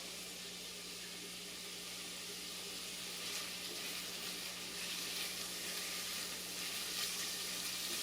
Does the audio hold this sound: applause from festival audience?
no